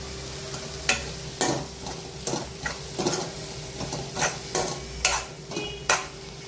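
Tomato and egg cook in a pan for anda burji, a steady close sizzle broken by repeated scraping stirs of a spatula, with no talking.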